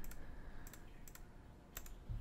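Keys tapped on a computer keyboard in a quiet room, a few faint, sparse clicks in small clusters over a low background hum, with nobody speaking.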